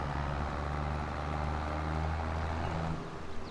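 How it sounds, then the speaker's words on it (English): A combine harvester cuts canola in Farming Simulator 22, a steady droning engine hum with low rumbling tones that holds constant throughout, then drops slightly near the end, with no talk. "our harvester is harvesting the canola"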